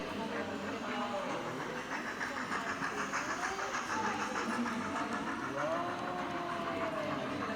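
A model train locomotive runs on a model railway layout around a winter New South Wales rail scene, a steady rolling rumble with faint whistle-like tones drifting over it, while a narrator talks throughout.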